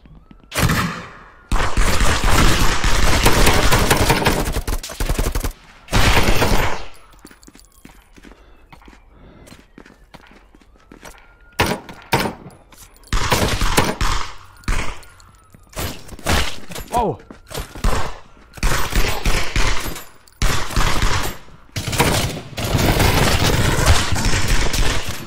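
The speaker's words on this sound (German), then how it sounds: "Von oben werden wir beschossen." Gunfire rains down from above in the Contractors VR shooter, loud sustained bursts of rapid shots and cracks in long dense stretches, broken by brief quieter gaps.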